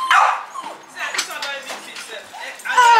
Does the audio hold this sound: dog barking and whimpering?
yes